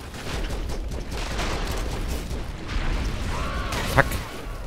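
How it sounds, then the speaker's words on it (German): A busy Broforce game battle crackles with continuous rumbling napalm blasts and scattered gunfire, ending in one sharper burst near the finish. "Hier explodiert einfach nur alles."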